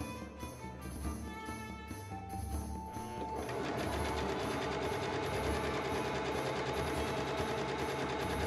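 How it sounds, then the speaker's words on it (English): A domestic sewing machine runs steadily at a long stitch length, sewing a gathering thread into linen ruffles for a chemise. The whirring stitching starts quieter and becomes louder and continuous after a few seconds, with no voices. "I lengthened my stitch and machine sewed a gathering thread into all the ruffles."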